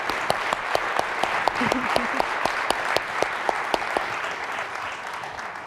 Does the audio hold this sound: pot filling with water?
no